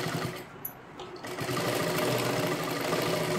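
A sewing machine runs steadily and close up while stitching a lehenga dress for a young girl, giving a continuous buzzing whir after a brief quieter start.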